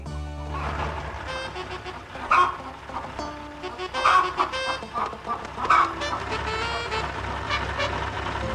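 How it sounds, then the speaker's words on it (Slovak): Chickens cluck and squawk in a busy, noisy cluster, with loud bursts of calls over a constant background rumble of other sounds. "Všetky sliepky sa zbehli ako na rozkaz, naskákali na korbu a išlo sa ďalej."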